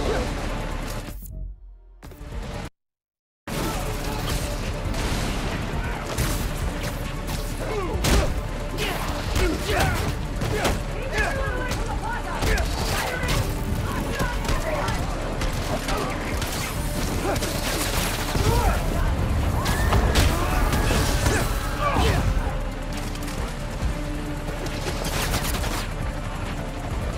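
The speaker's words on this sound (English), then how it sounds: "Gunfire!" Gunfire in the video game Spider-Man Miles Morales: dense bursts of shots and mechanical clatter form a loud, sustained barrage. It drops out briefly near the start and then continues with scattered impacts throughout.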